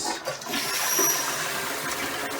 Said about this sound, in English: you can actually wash your hands here and the water goes down into the toilet